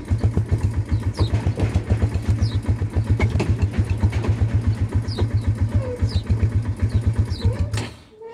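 A cold farm bike engine idles close by in a steady, loud putter of rapid even pulses for about eight seconds before cutting out near the end.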